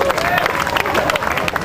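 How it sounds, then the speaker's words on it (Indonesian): Applause and cheering from an auditorium crowd at a campus event for Pak Tobi Mutis, a dense, steady wash of clapping and crowd noise throughout, loud and close. "Tepuk tangan untuk Pak Tobi Mutis"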